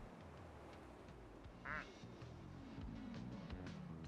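A single short duck quack from the Placid Plastic Duck Simulator video game rings out over a busy, steady background of game ambience.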